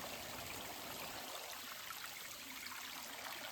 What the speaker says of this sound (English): The trail is basically a waterfall.